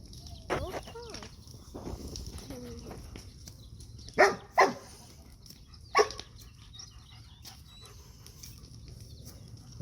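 A farm dog around goats gives a few sharp barks midway, along with panting and scuffling, while people talk quietly in the background outdoors.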